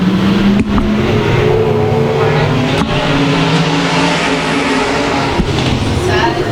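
Six dirt track race cars roar off at the start of an eight-lap race at a speedway, engines droning and revving loudly together with brief bursts, while an announcer talks over the noise.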